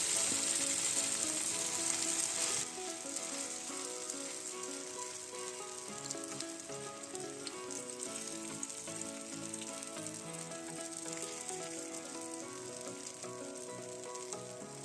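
Batter frying in mustard oil in a pan gives a loud, steady crackling sizzle that runs the whole time, easing slightly in volume after the first couple of seconds.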